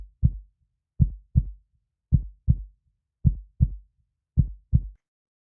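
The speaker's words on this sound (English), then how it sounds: "This is the sound, the rhythm of your heartbeat." Human heartbeat in a steady rhythm, paired lub-dub thumps repeating about once per second, close, low and isolated against silence.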